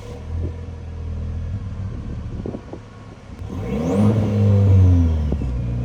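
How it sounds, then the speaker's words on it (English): A 2024 Chevrolet Colorado ZR2 pickup's 4-cylinder engine idles with a low rumble, then revs up sharply, climbing to a loud growl before easing back down. "I'm gonna have Kelly start both of them up and give us a little bit of a rev."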